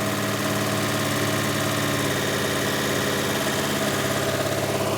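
A racecar's freshly installed engine idles at about 2,000 RPM, a steady, continuous mechanical drone with an even, throbbing pulse that holds unchanged throughout, with no voices over it.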